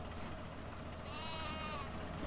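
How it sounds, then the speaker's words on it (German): Sheep bleat in Farming Simulator 19, a single wavering bleat rising over steady low farm ambience at moderate loudness, with no talk. "Sie haben aber schöne Schafe."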